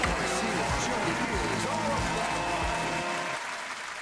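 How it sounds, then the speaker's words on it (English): Steady applause fills the space at a podcast show's hundredth episode, with low rhythmic thuds and a voice speaking over it, thinning out toward the end. "So let's give ourselves a round of applause."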